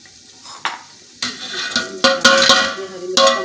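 Black pepper, green chili and dried coriander hit hot oil for a kadhi pakora tempering, giving bursts of sizzling with a few sharp spoon scrapes against the pan, close and moderately loud, no talking.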